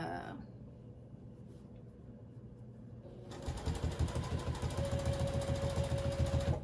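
A sewing machine stitching a baby quilt: after a quieter stretch with some faint background sound, the motor starts up into a fast, loud, rhythmic chatter of needle strokes that runs to the end, close by.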